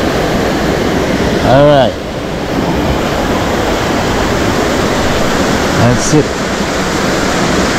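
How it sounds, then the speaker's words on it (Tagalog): Steady roar of Kilangin Falls, a waterfall, fills the whole stretch as a loud, constant wash, with someone speaking briefly over it. "Dito na yung pinakang falls niya."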